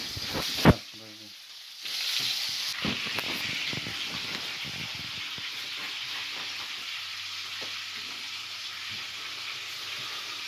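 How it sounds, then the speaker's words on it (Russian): Steady hiss and crackle of fish frying in plenty of hot oil, after a brief clatter and thump at the start, continuing evenly and close by. "Когда жарит рыбу, масло наливает побольше, чтобы она в масле жарила"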